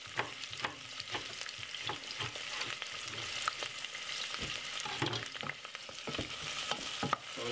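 Yellow and red peppers stir-frying in a pan for a vegetable stir-fry, a continuous close sizzle broken by frequent scraping and clattering stirs.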